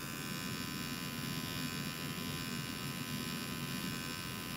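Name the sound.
tattoo machine buzzing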